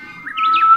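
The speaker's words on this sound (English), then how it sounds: "imagine Japanese warbler, which is like" A Japanese bush warbler's song, a short whistled call rising from a low steady note into quick higher trills, clear and fairly close with no voices.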